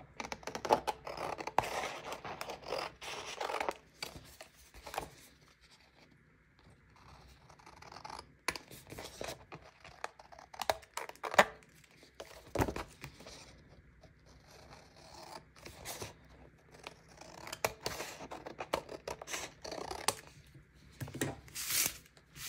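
Paper being trimmed with scissors, with uneven bursts of crisp snipping and scraping close up, broken by short quiet gaps, and no voice.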